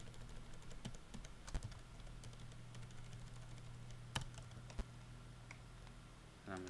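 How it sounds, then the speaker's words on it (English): Keys clatter faintly on a computer keyboard in short irregular runs, with a few louder isolated clicks over a low steady background hum. "I'm going to type that in right"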